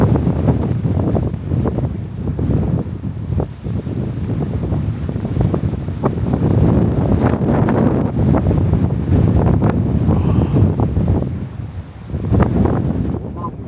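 Strong wind gusting steadily past trees during a long walk, a loud broadband roar with buffeting against the microphone that swells and eases throughout.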